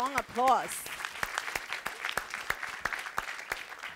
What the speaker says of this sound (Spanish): Dele ese fuerte aplauso una vez más.